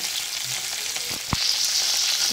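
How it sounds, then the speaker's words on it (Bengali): Large pieces of cauliflower fry in hot oil with a bright, steady crackling sizzle that swells slightly midway, broken by a single soft utensil knock, close up and with no one talking. "এখন এখানে ফুলকপি আমি ভাজছি, একটু বড় বড় করে টুকরো করে নিয়েছি।"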